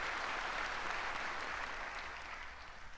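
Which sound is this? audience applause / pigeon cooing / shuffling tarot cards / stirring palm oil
audience applause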